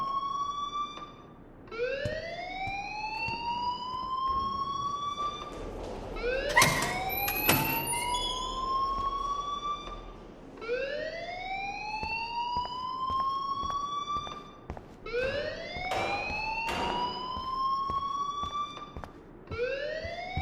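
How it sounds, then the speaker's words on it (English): Rising, wailing alarm in the video game Life Is Strange, a loud electronic siren sweeping upward over and over in repeated cycles, with faint background sounds underneath. "please turn off that alarm since that's your job"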